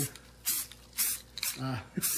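Short hissing bursts of a spray paint can priming 3D-printed tabletop game terrain, several quick sprays in a row, with a voice talking in between.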